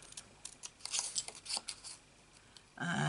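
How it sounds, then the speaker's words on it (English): Scissors snipping and rasping through paper in short quick bursts, close up, ending with a louder rustle of handled material. "And with my scissors, I just cut up"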